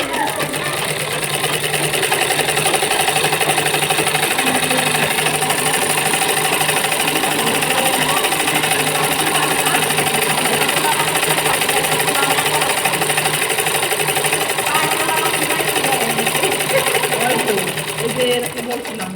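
Sewing machine stitching palazzo trousers, a continuous close whirring hum that holds steady for the full length while people talk over it.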